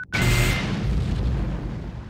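A Poltergeist missile detonates in the space combat game X3: Albion Prelude: a sharp onset, then a loud, broad boom with a deep rumbling tail that stays heavy and sustained for about two seconds, with no talk over it.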